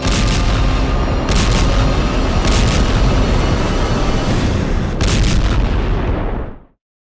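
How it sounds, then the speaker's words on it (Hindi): Nuclear bomb explosion effect: a loud, continuous, deep rumbling roar with several heavier booming bursts rolling through it, holding steady for about six seconds before cutting off abruptly. "महाशक्तियों के परमाणु बमों का विस्फोट कई देशों के लिए हानिकारक होगा।"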